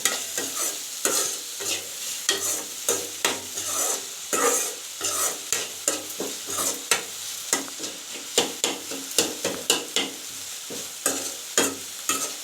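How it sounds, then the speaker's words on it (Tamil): Onions sautéing in a pan, a rhythmic run of loud spatula scrapes and stirs over a bed of hot frying sizzle, close up with no voices. "வெங்காயம் நல்லா வதங்கணும்."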